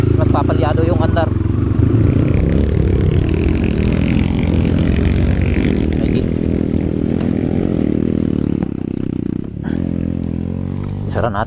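A misfiring motorcycle engine idles roughly and unevenly close by, sputtering and stumbling throughout, with voices talking over it.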